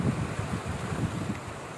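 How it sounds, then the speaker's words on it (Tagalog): Strong typhoon wind under a Signal No. 3 storm, roaring and gusting continuously in a dense buffeting rush close to the microphone, with no voices. "Grabing hangin sa taas oh."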